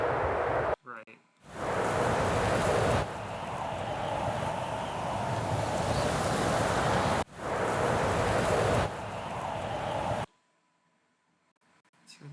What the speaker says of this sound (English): it's a little bit more shape and contour to the wind